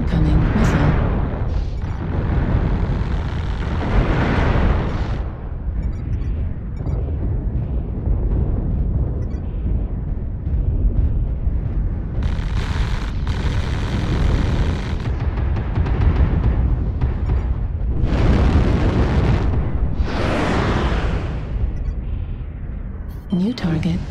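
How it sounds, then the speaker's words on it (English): Incoming missiles slam down in MechWarrior Online, several heavy booming explosions rolling in waves over a constant low mechanical rumble, with a synthetic cockpit voice speaking between the blasts. "Warning, incoming missile."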